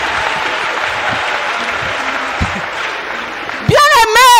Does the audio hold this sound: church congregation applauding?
yes